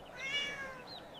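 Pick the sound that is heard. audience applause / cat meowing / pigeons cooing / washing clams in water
cat meowing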